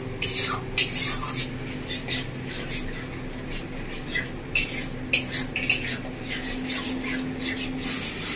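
Beaten sour curd being stirred into spice paste in a pan over a low gas flame for a Bengali village-style bhetki fish kalia, with steady scraping and rubbing of a spoon against metal and soft clinks, all close and without talk.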